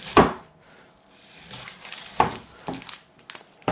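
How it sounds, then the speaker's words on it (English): Sharp Japanese stainless steel carving knife slicing through an onion, a few crisp cutting strokes with soft crunchy crackle, close and fairly quiet, with no talk. "Cuts right through the onion too."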